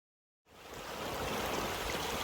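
Stream water flowing along the Appalachian Trail, beginning abruptly after a short silence and then a steady, close, broadband rushing and gurgling that holds on alone without any voices.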